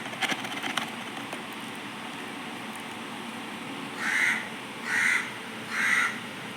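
A crow caws three times in a steady rhythm toward the end, each call clear and fairly close, rising over quiet outdoor background during plant-potting work at home.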